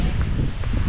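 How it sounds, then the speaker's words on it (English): Strong, cold wind roars across the exposed summit of Baldpate Mountain on the Appalachian Trail in extreme weather, a steady, loud, close buffeting rush that batters the microphone throughout, with no voices. "It is windy and cold on the top of Baldpate."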